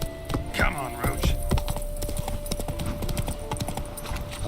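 Hooves of the horse in The Witcher 3 clip-clop in a quick trotting rhythm with some jangling tack, close and steady, while game voices speak faintly underneath.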